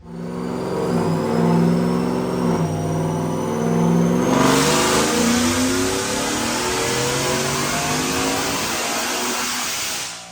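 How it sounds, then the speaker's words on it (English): Supercharged 2023 Ford F150 with a Whipple supercharger, running E85 without headers, making a loud dyno pull: engine revs climb steadily, then rise into a roaring, high-rpm wail with supercharger whine that holds to the end. "check out this dyno pull"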